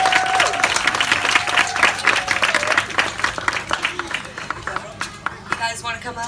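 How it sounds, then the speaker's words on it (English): A community audience applauds a guest speaker, with loud, close clapping that thins out toward the end as murmuring voices rise. "Let's give her a round of applause."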